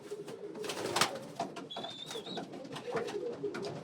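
Staf Van Reets racing pigeons, blue bars, cooing in a loft: soft, throaty low coos repeating close by over a few seconds, with light rustling and a faint high chirp.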